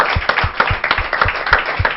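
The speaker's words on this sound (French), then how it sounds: "Je vous demande de les applaudir bien fort" An audience at an anniversary show gives loud, dense applause, a quick irregular patter of many hands clapping close by for a couple of seconds.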